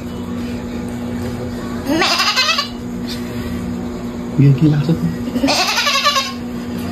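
A person mimics a goat's bleat twice, wavering nasal calls a few seconds apart, with people talking around them.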